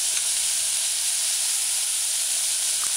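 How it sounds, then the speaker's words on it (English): Codfish stew with chopped tomatoes, scallion and vegetables sautéing in a pan, giving a constant soft hiss of steam and sizzle, with no talking. "Allow it to saute."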